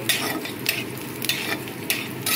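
Ginger and whole spices frying in hot oil for masala paneer, a loud close sizzle running throughout while a spoon stirs the pan in a few distinct scraping strokes.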